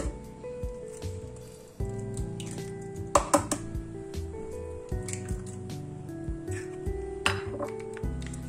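Eggs squish and slop into a bowl of almond and peanut cookie dough for Moroccan Eid sweets, with clinks of utensils against the bowl over soft background music.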